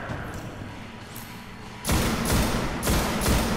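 Muffled booming shots from far off, a few broad bursts in succession after a quieter stretch, like distant gunfire in the video game Destiny.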